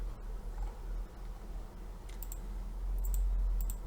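A few sharp computer mouse clicks sound close over a steady low hum while someone works in AutoCAD, with no talking.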